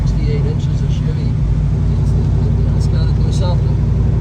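A 1970 Chevelle SS with a 468 big-block V8 and a stiff cam idles loudly and steadily with a deep, lumpy rumble, while voices talk faintly over it.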